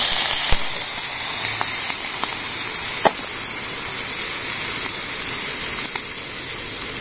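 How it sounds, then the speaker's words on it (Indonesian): Caterpillars sizzle loudly in a frying pan, a dense, steady hiss with occasional pops and crackles, close and continuous with no voices. "Kita langsung goreng."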